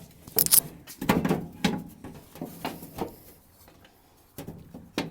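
Access panel on a Garland MCO-ES-10S convection oven being fitted back in place, a few close metallic clunks and scrapes with quiet rattling between them and a last couple of knocks.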